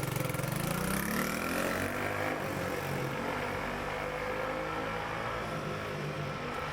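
A small Honda CL90 motorcycle engine runs close by, revving briefly at the start then settling into a steady, buzzy drone.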